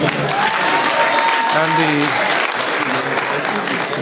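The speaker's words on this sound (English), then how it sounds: "Please clap for our people" Audience clapping at a youth empowerment program graduation, a loud, steady burst of applause that carries through the whole moment, with a speaker's voice briefly over it.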